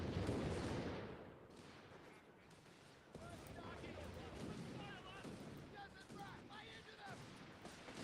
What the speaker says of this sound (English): Oh, I love that Bofors cannon.